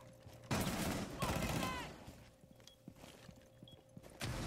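Gunfire from a Rainbow Six Siege match comes in short bursts of sharp shots, mixed with footsteps and game noise, all fairly faint.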